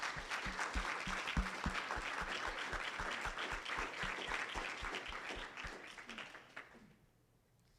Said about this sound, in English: So round of applause to you girls.